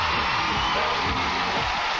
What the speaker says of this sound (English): Give her a nice round of applause, you guys.